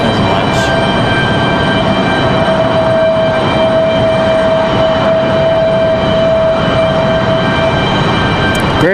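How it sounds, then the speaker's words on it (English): An Embraer E175 jet spools up at Raleigh-Durham International Airport, a loud, continuous roar with a steady high whine running through it, heard from nearby. "We've got this E175 getting ready to get a move on here, so I'm trying to not compete with the noise as much."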